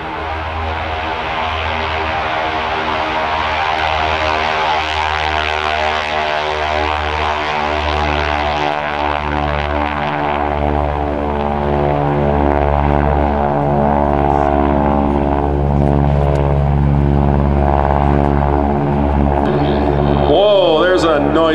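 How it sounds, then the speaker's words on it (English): Two T-6 Texan Harvard propeller airplanes fly at an airshow, their engines a loud, sustained roar that grows and holds close overhead, with a commentator talking over them. "Noisy couple of airplanes there."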